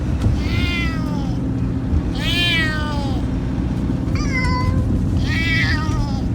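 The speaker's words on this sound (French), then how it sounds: "Miaulement à l'unisson." Two or more cats meow over and over, their long wavering cries overlapping and answering each other above a steady low rumble of background noise.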